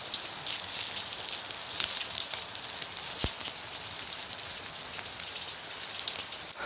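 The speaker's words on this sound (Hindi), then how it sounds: "बारिश तो थोड़ा ज़ोर हो ही है" Heavy outdoor rain pours in Menchuka, a constant hissing patter that stays loud and even throughout, with one sharp knock near the middle and no voices.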